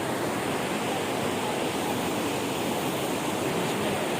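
A river runs between the cremation grounds near Chamunda Devi Temple in Himachal, giving an even, hissing rush of water that holds at a moderate level without pause and with no voices.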